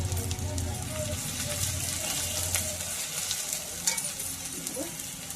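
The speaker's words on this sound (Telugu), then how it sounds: "ఆయిల్ వేడెక్కింది. ఇది చూడండి, ఆనియన్స్ వేసేసాను." Chopped onions dropped into hot oil for a raw plantain curry fry with a continuous crackling sizzle, close and moderately loud, with brief utensil scrapes and a faint voice near the end.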